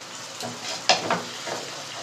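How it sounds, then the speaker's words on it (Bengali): Cashew nut paste sizzles in a pan, a low steady frying hiss broken by a sharp scrape and a couple of stirring knocks midway. "কাজু বাদাম পেস্টটা ততক্ষণ কষাতে থাকতে হবে"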